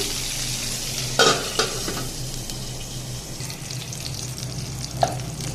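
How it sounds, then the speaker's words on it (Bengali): Eggplant slices fry under a lid in a covered pan, giving a steady, moderately loud sizzle, with a couple of brief clinks and knocks partway through. "বেগুন ভাজাটা একটু ঢেকে দিচ্ছি তাড়াতাড়ি হওয়ার জন্য।"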